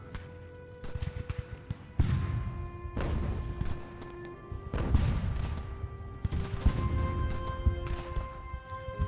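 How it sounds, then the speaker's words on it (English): Cannon artillery in the video game Ultimate General: American Revolution fires repeatedly as a battle goes on, with sharp booms at irregular intervals ringing out over a constant low din. "Let's maybe stop firing our cannons into our own men."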